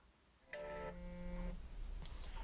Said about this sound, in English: So let's phone eBay now.